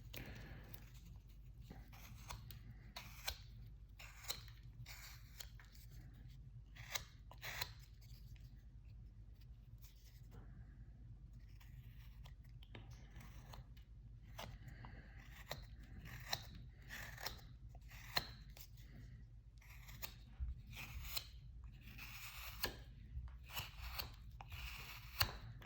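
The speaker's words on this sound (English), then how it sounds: "Just taking a lot of wood off right there, a little height." A blade shaves wood off the cab of a carved wooden model in a quiet room, producing a long series of close, crisp snipping and crunching cuts at an irregular rhythm, with no speech.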